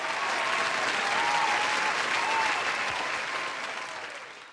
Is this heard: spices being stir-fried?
no